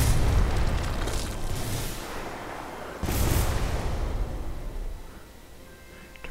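Torpedo salvo launching in the airship combat game Airship Kingdoms Adrift: two heavy booming bursts, one at the start and another midway, each rolling into a long rumbling decay with no voices.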